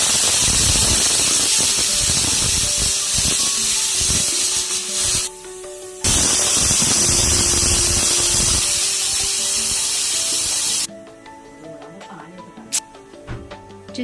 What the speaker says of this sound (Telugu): చూసారా, 3 విజిల్ అయిపోయిందండి.